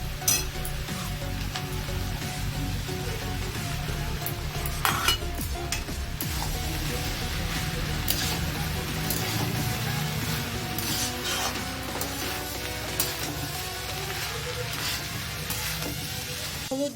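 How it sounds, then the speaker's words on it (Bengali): Prawns frying in hot oil for a Bengali onion prawn curry hiss with a constant close sizzle, joined by scattered clinks and scraping of a utensil against the pan, continuing steadily without speech. "এবার আমি চিংড়ি মাছটা দিয়ে দেবো।"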